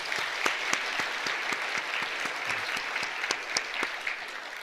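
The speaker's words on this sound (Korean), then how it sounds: "박수로 축하하겠습니다" Steady applause from a church congregation celebrating a baptism during a Sunday worship service, a dense even patter of many hands clapping at moderate distance, continuous for several seconds without speech.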